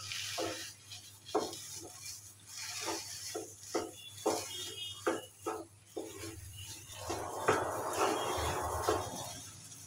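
Sweet potato halwa with pistachios and raisins is stirred in a pan, with a series of rhythmic scraping rubs from the spoon and a louder, longer rasping scrape near the end, close by and with no talk.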